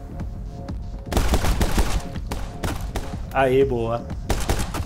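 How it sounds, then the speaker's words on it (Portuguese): Rapid bursts of gunfire from the video game My Friend Pedro crack out repeatedly amid game music, with a player chatting excitedly over the shots. "Ó, pulou e já chega atirando."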